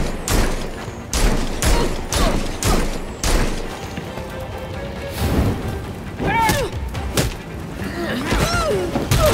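Fireworks burst in Gotham Knights with a rapid string of loud booming thuds and crackling blasts, some followed by whistling rising tones, while a voice talks intermittently.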